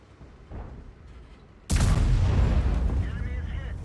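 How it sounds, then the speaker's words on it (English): A tank's main gun fires in World of Tanks, a loud sudden boom that cuts in sharply partway through and rolls on as a sustained rumble, over faint background noise. "It's got a shot on Liquid 1 there, which will make him keep his head down"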